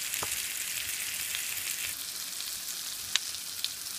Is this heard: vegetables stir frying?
yes